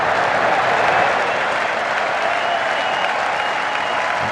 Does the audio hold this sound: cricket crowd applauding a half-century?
yes